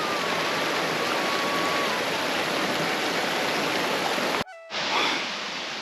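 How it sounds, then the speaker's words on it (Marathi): Mountain waterfall and stream on the Satopanth trek, a dense, loud, continuous rush of falling water that cuts off abruptly near the end, then resumes more faintly. "किती उंचावरून हा धबधबा कोसळतोय."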